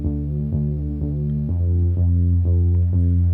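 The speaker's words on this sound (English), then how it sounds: "This is actually a Juno synth bass," A Juno synth bass plays a steady pulsing line of repeated notes, about two per second, warm and upfront, shifting pitch halfway through, with nothing else heard.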